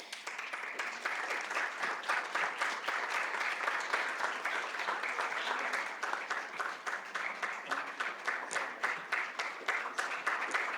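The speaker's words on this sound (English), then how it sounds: "Can we please have another round of applause for our activists in the group, in the crowd" A crowd at a literature festival applauds activists, steady dense clapping from many hands that carries on throughout, fairly close and even in loudness.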